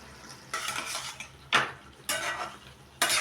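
A utensil stirs brinjal coriander curry in a pot with four distinct scraping strokes spaced about a second apart, each a close, rough swish against the pot over a faint sizzle, with no talking.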